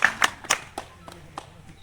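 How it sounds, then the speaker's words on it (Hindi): A handful of scattered handclaps from a small group at a village honoring ceremony during an Arya Samaj gathering: a few sharp close claps at the start, then sparser, fainter ones trailing off. "ताली बजा दो भाई।"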